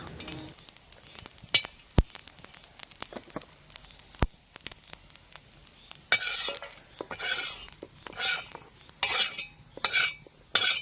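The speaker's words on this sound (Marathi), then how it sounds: "फक्त मसाला खरपूस भाजायचा आहे" Coconut and spices dry-roasting for masala in a pan outdoors in a field, with sharp scraping and stirring strokes of a spatula against metal over a faint crackle, close and uneven in rhythm, no speech.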